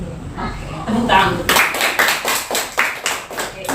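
A group in a counselling session claps in unison, a few rhythmic, sharp, evenly spaced claps close by, after a brief bit of talk at the start.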